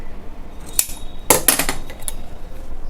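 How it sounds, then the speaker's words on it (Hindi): Scissors snip through fabric while cutting out a kurti, giving a few sharp metallic clicks and crisp snips close by, separated by short quiet gaps. "अब यहाँ पर हम एक कट लगा देते हैं और दूसरा कट यहाँ पे सिलाई के लिए।"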